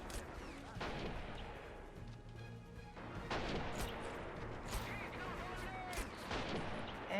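Gunfire from SMG-armed infantry fighting on a town's outskirts in a WWII strategy game, steady rattling shots and distant booms running throughout under a commentator's voice.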